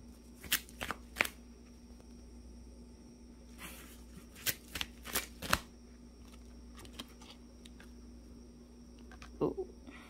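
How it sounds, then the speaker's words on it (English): A deck of tarot-style cards being shuffled to pull a card, several crisp riffling bursts and clicks in short clusters, close by, with quiet gaps and a steady low hum beneath. "I'm going to pull one more card."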